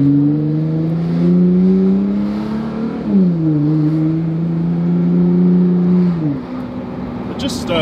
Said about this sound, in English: It's such a ruckus, this car.